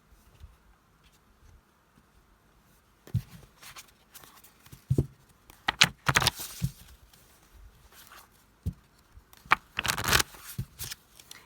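A deck of tarot cards is shuffled by hand in a quiet room, with soft papery riffles and rustles that come in irregular clusters and short pauses, faint and close, with no talk.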